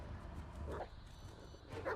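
A dog barks in a video game, with two short yipping barks about a second apart, heard over a steady game background hum.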